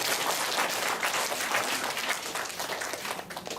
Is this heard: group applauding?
yes